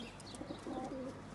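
Racing pigeons, about fifty birds confined inside a car, coo steadily throughout with soft overlapping calls close by, no talk over them.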